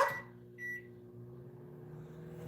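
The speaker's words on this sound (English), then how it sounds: "There's the microwave." A microwave oven gives a short sharp beep, then a second brief beep, over a steady low running hum. The sound is fairly quiet and there is no talking.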